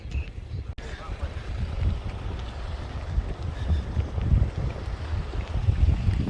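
An evening breeze blows outdoors near a beach, a continuous low rumbling buffet of wind across the microphone with no voices, steady and close throughout.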